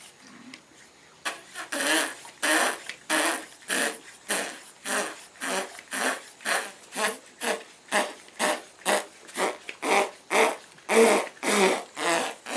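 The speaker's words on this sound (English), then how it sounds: "you pump the pump and air comes out" Rhythmic air pump worked by hand, about twenty steady broadband whooshes of expelled air repeating roughly every half second, fairly loud and close with no talking.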